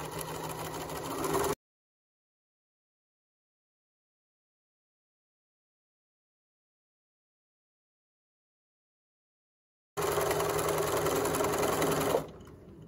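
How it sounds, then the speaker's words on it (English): A sewing machine stitching a pajama pants seam at 1/8 inch allowance, a steady close mechanical whir that stops abruptly, leaves a long gap, then runs steadily again and winds down near the end. "I'm going to back stitch, and I'm gonna sew all the way around the entire thing"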